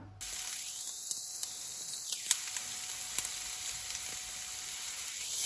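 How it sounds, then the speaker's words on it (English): Onions sizzle steadily in hot olive oil in a pan over medium heat, a soft continuous hiss with faint crackles that sits close and alone, with no one talking. "I'm then going to add the onions to the pan."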